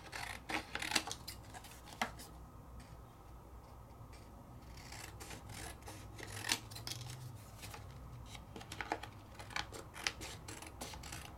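Scissors snip and trim a paper craft piece up close, a run of quick, crisp cuts and rustles repeating steadily throughout.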